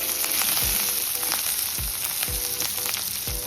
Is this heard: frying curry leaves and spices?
yes